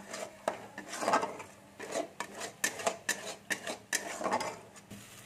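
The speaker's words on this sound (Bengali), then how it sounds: "আর এই মশলাটা একটু ভাজতে দেবো আমি, কারণ নারকেল দেওয়া রয়েছে, পোস্ত দেওয়া রয়েছে, ওই জন্য একটু আমি ভাজবো।" Spice paste of coconut and poppy seeds being fried and stirred in a pan, a spatula scraping and rasping against the metal in a steady run of short strokes, close and fairly quiet with no talk.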